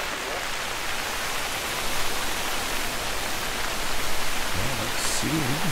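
Wind-driven rain slants down in the hunting game The Hunter: Call of the Wild, a steady, even hiss of falling water that swells slightly midway, with a faint low voice murmuring near the end.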